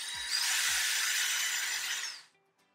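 A handheld power drill whirs steadily for about two seconds with a bright high-pitched motor whine, then winds down to silence, heard close and alone with a couple of faint clicks at the start.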